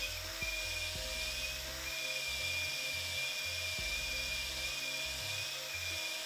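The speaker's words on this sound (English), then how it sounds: "I've gone to a bit higher speed on the drill." A power drill runs steadily at a fairly high speed on an engine lifter of a Lotus Europa engine during pushrod and lifter work, giving a continuous whine with low, stepped changes in pitch and load, close and alone without talk.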